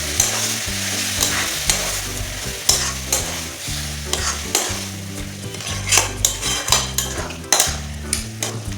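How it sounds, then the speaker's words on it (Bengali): Cabbage with spices is stir-fried in a pan over low heat: loud spoon scrapes and clanks against the metal come in irregular bursts over a constant sizzle, with no talk. "এবার অল্প আঁচে মশলার সাথে বাঁধাকপিটা ভালোভাবে কষাইতে হবে"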